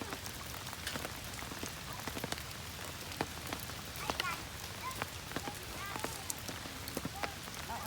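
Steady rain patters on an outdoor play area with a water flume and mud kitchen, a dense hiss broken by sharp drop ticks and splashes, with faint children's voices and chatter underneath.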